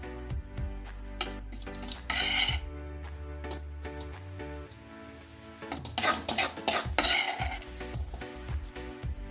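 Boiled potato being mixed with fried masala for vegetable cutlets, heard as clinking spoon-and-bowl scrapes and stirring clatter in irregular bursts, loudest in the second half, with no talking.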